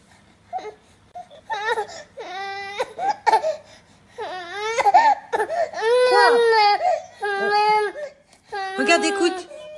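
A crying toy teddy bear wails in repeated rising, sobbing bursts, loud and close, with short pauses between cries and voices nearby.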